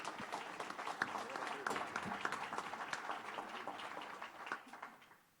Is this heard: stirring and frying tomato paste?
no